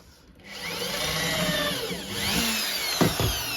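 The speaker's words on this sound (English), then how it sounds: "I'm going to screw this." Power drill driving screws into wood while building a throne prop, a close whirring motor that spins up and holds steady, with a couple of sharp bumps near the end as a screw seats.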